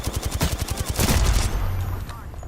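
Rapid bursts of automatic gunfire crackle in a Project Zomboid multiplayer session, a dense fusillade of overlapping shots lasting throughout, loud and close, with faint voices beneath.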